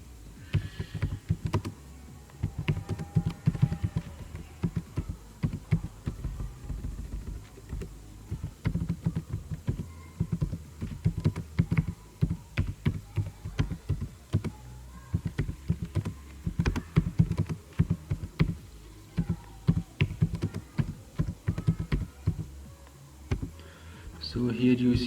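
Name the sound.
typing on a computer keyboard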